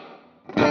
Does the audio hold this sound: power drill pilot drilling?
no